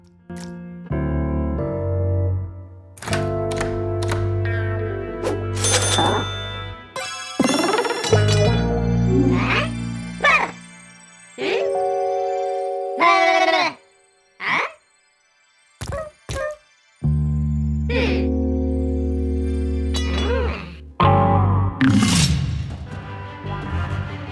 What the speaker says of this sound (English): a ton of coins spew out